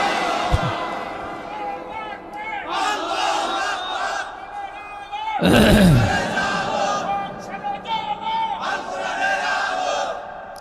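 Large crowd at a Bangladeshi religious sermon gathering roars a chant in unison after a takbir call, loud bursts of many voices rising and falling, with a lead speaker's voice between.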